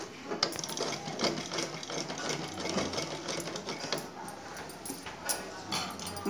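A sewing machine runs steadily while stitching piping onto a blouse neckline, its fast even whir and needle ticking close and continuous, alone without talk.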